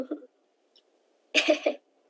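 A woman recovering from illness gives a short throaty cough burst, close and clear after a brief moment of speech, followed by silence.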